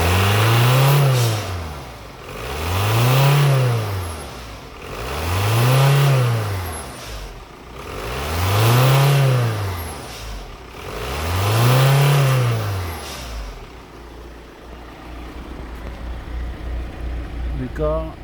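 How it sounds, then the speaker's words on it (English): Audi A4 engine with a low boost control fault revved repeatedly, five evenly spaced rises and falls in pitch and loudness, then settling to a rough idle. "so as I rev the car"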